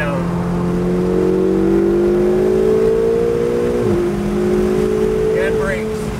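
A Ferrari 488 engine at Pacific Raceways in Kent, Washington, drones steadily and climbs in pitch under acceleration, with a brief dip partway through as it comes back on the throttle, loud and close from inside the car.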